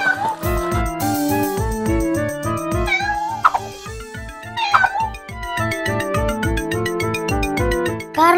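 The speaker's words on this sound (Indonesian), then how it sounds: "Itu suara kucing kecil." Repeated high kitten-like meows over a bouncy musical backing with a steady beat, loud and close, with a couple of short squeaky accents.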